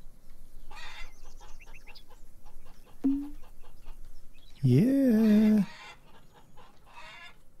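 Chickens in the farming video game Farmer's Dynasty give a few short clucks and one louder, drawn-out squawk, with a brief spoken word in between.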